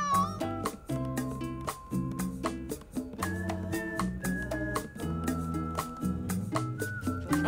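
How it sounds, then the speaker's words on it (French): A cartoon cat meows again and again in short, bright cries, repeated at a steady pace over a busy, lively background. "Oui, bien, c'est un bon chat, ça."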